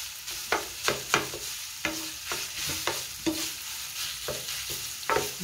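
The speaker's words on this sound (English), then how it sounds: "I'm going to finish cooking this until all the pink is gone" Ground sausage sizzles in a pan while a utensil scrapes and stirs it in irregular strokes, close up, with a constant frying hiss and no voices.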